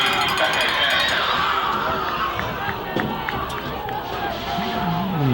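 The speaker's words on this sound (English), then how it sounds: "And the crowd goes crazy" Crowd noise at a high school football game, a broad steady roar of cheering and chatter from the stands with clinks and shuffling, under a commentator's voice throughout.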